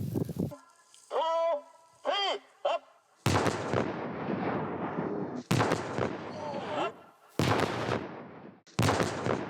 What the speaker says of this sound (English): I'm about to blow up some unexploded ordnance from the United States.